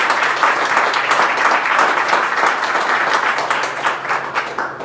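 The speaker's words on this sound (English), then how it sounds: "Please a round of applause." An audience at a political event applauds council members, producing steady, dense, loud clapping that holds throughout without any speech.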